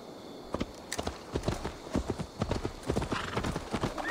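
Horse hooves in the video game Assassin's Creed Valhalla clip-clop in a quick, uneven walking rhythm, close and fairly loud, with no talking.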